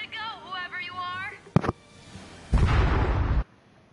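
A warship exploding in the 2016 Ratchet and Clank game: a sharp crack followed by a loud, roaring blast lasting about a second, with game character voices speaking before it.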